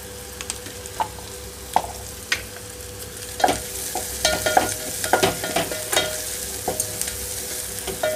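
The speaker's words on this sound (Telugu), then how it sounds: "1-2 నిమిషాల పాటు మీడియం ఫ్లేమ్లో ఉంచి వేయిస్తున్నాను" Onions frying in a pan over a medium flame, with a steady soft sizzle beneath scattered scraping stirs and light clicks of a spoon against the pan. The sizzle is close and moderately loud, and no one speaks.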